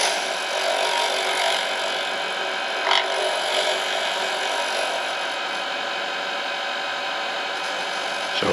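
Wood being scraped with a hand tool, likely turned on a lathe, produces a steady, close rasping drone with a faint mechanical hum underneath and a brief louder scrape near the middle.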